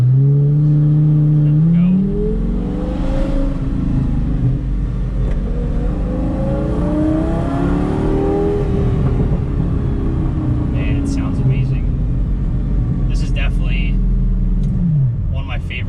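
A V10-engined car pulls away in first gear and revs hard, its loud engine note climbing steadily in pitch for about fourteen seconds before cutting off, with a few faint voices late in the run.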